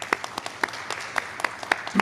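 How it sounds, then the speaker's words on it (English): Scattered applause at a college awards ceremony for physics award recipients, a sparse audience clapping with distinct individual claps over about two seconds. "could we get a round of applause to the physics recipients?"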